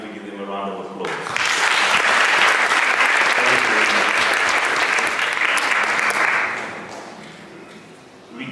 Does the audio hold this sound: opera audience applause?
yes